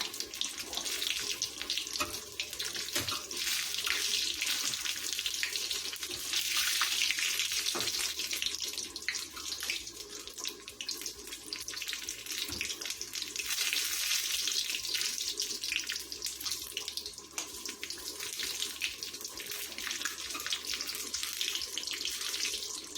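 Battered chiles stuffed with cheese fry in very hot oil, giving a loud, steady, close sizzle with scattered crackles that runs unbroken throughout.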